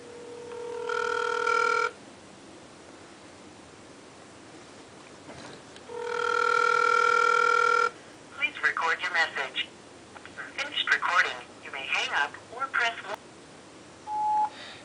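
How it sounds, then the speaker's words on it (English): Telephone ringback tones on an outgoing call, two long steady ring bursts separated by a pause, followed by a voicemail greeting voice speaking and a short closing beep. "I'm gonna call her right now and say hi to her"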